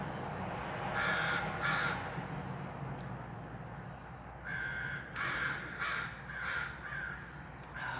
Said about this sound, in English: More like a raven, but I don't know.